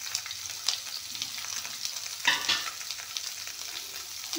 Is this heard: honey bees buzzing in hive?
no